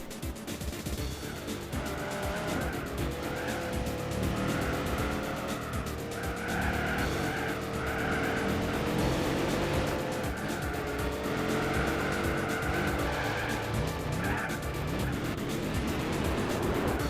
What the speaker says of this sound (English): The Griffith makes half the horsepower and is racing hards, so it should be left in the Speed12's tyre smoke